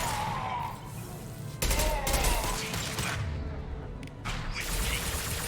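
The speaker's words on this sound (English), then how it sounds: "Firing concussive shot." A concussive shot fired in Mass Effect 2, heard as a sudden heavy burst partway through, followed by more clattering combat effects and a steady rumbling battle background, with brief voice bits near the start and end.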